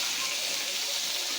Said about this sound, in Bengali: তারপরে তেলটা গরম হলো, আলুগুলো দিলাম।